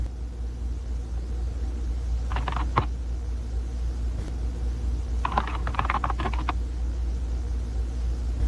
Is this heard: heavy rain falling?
no